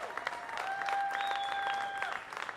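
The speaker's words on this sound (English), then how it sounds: "Give yourselves a round of applause." A live studio audience on a talk show applauds steadily for about two seconds, a dense wash of clapping with a bright sustained tone ringing over it before the clapping tapers off.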